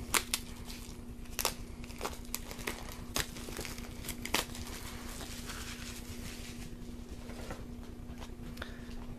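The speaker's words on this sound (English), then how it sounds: "open the actual box itself here." Apple Magic Trackpad box being opened, with soft crinkling and scattered light tapping and rustling of the packaging, faint and close with an underlying steady hum.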